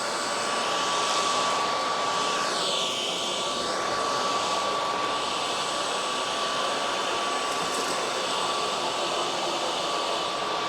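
A Trucozie 60Kpa cordless vacuum cleaner runs steadily at its highest speed on indoor-outdoor carpeting, a loud continuous high-pitched whine with a sustained tone, close and alone.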